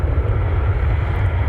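Fixed-wing airplane passing close by an airport runway at a plane-spotting park, a loud, steady broadband engine roar with heavy low rumble and no voices.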